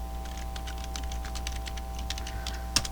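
Text being typed on a computer keyboard while building an App Inventor alarm app, a steady run of light key clicks close by with one sharper tap near the end and no talking.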